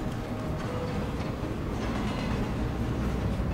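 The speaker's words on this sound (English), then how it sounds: "I gotta stop this train before it goes to Hogwarts" Train rolling along rails in the Captain America Super Soldier video game, a loud continuous rumble with low clattering wheel noise that holds steady throughout.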